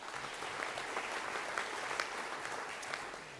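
An audience at a school leaders induction ceremony claps steadily, a dense even patter of many hands that keeps going without a break, heard from a moderate distance with no talking over it.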